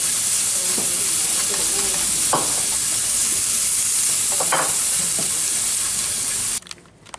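Rice cake japchae ingredients, including beef and jujube, are stir-fried in a pan over low heat, giving a steady hiss and sizzle with scattered scraping stirs for several seconds before cutting off abruptly.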